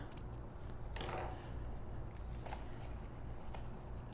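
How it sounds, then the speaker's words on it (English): Paper is trimmed to size for a handmade notebook tri-fold folio, giving a few quiet, separate cutting sounds over a faint steady room hum. "just trim off about a 1/16 of an inch on either side"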